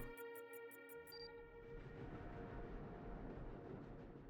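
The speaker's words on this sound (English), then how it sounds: "There's a tram nearby." A tram rolls past nearby in the video game The Operator, a low rumbling swell of wheels on rails that rises and holds steady after a short run of beeping tones.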